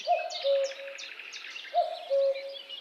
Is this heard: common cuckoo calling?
yes